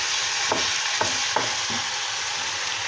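Meat fries loudly in a pan with a constant sizzling hiss, broken by a few soft scraping clicks as it is stirred.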